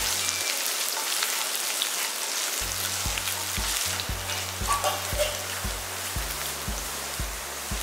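Small onions sautéing in a pan with salt for a mutton salna, a continuous crackling sizzle under rhythmic background music.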